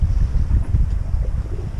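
Strong katabatic wind in the Strait of Messina buffets the microphone in low, gusty rumbles, with a faint wash of water underneath and no voices.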